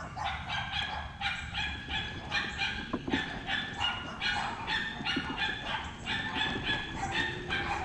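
A small dog barks repeatedly in quick, yappy bursts, fairly close, with steady background noise underneath.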